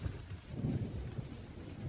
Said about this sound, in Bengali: কিন্তু এই কালবৈশাখী বর্ষা থামার কোনো নামই নিচ্ছিল না